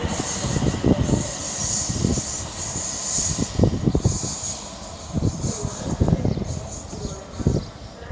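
A British Rail Class 350 unit, 350-103, pulls away from Stafford station on the West Coast Main Line, its wheels thumping and clattering in an irregular rhythm over steady rumbling and high hiss, fairly close and continuous throughout.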